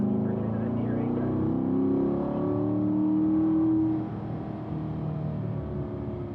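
A Corvette engine pulls steadily on a race track in third gear, a continuous mid-level drone rising in pitch before easing off, with no talking over it.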